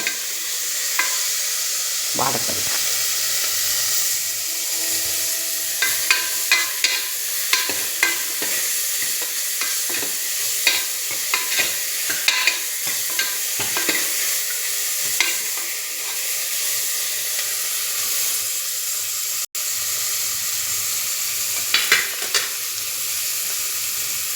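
Tomatoes frying in a pan, a steady loud sizzle close up, broken by intermittent scraping and clinking of a spoon stirring, with no talk.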